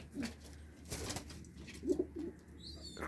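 Pigeons coo softly in low throaty murmurs, with a brief flutter of wings and faint chirps in the background.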